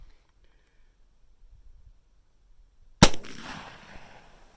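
A single sharp rifle shot from a Marlin 1894 firing .45 Colt lead-bullet hand loads, close and loud after about three seconds of near silence, followed by a brief fading echo.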